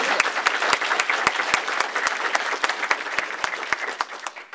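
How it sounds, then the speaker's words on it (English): A room of people applauds newly certified inspectors and auditors at an association meeting, sharp individual claps standing out over a steady wash of clapping that runs throughout without pause. "All right, a round of applause"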